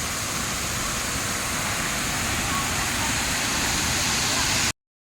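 Water rushing with great force at the Mann Pilavu waterfall on a heavy-rain day, a loud, steady roar of broadband noise that runs unbroken and then stops abruptly.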